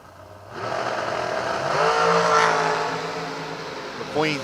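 Drag racing cars, including a West Texas-based dragster, accelerating down the lanes, a loud roaring engine swelling and rising in pitch over several seconds, with an announcer talking over the noise.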